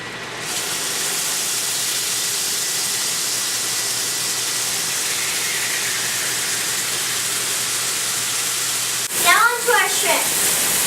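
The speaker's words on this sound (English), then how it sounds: "Make sure to cook it on a hot cast iron skillet to get a nice sear." A steak sears in a hot cast iron skillet with a loud, steady sizzling hiss that runs unbroken and close for most of the stretch, then is briefly interrupted by a short burst of voice near the end.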